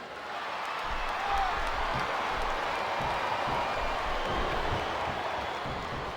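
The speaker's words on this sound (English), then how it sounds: "This capacity crowd is making their opinions known tonight." A capacity crowd at an indoor wrestling event keeps up a dense, continuous roar of cheering and clapping, a steady wash of noise with no pauses.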